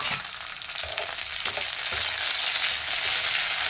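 Green chilies frying in a hot pan, a dense, continuous hiss and sizzle with occasional soft stirring knocks, close and steady throughout.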